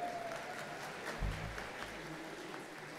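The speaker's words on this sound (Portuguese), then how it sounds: "Uma salva de palmas aqui aos dois grupos" Faint, steady applause from an audience at a music and innovation event, clapping for two groups, distant and continuous with a brief low thump partway through.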